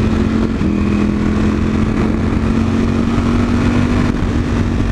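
A light motorcycle pulls hard in sixth gear, a loud, close, sustained engine drone that steps slightly in pitch early on and then holds steady as it accelerates.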